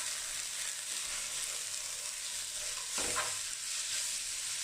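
Ground beef and onion stir-fry in a pan for Korean-style bulgogi with Indonesian seasoning, a loud, even broadband sizzle that holds steady throughout, briefly swelling once as the meat is stirred.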